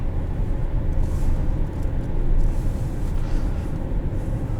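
A 2017 Hyundai Santa Fe Sport 2.0T turbo engine pulls in second gear, a steady low rumbling drone heard from inside the cabin, with no voices.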